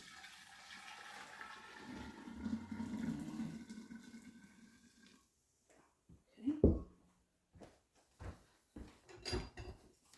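Water poured into a homemade laundry detergent mix, a steady filling rush for about five seconds, then quiet with a few louder knocks and clatters of a container afterward.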